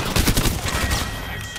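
Rapid bursts of video game gunfire crackle through a dense, busy mix, loudest in the first half and then settling into steadier, slightly softer shooting.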